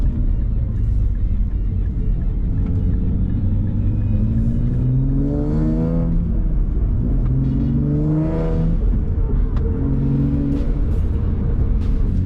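A Nissan Z fitted with an aftermarket UniClutch pulls away and drives on, its engine rising through the gears over a steady road rumble, recorded from inside the car without talk.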